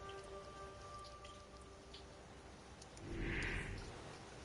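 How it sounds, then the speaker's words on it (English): Steady rain falls throughout, a dense patter of drops with a brief louder burst of splashing near the end, heard alone with a faint tonal hum in the background. "We've had a lot of rain over here recently, and I guess today is another of those days."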